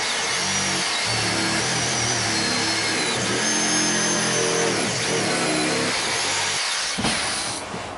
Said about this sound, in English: I'm gonna use the jigsaw.